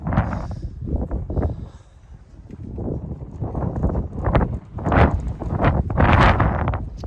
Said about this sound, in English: The wind is trying to blow a little bit today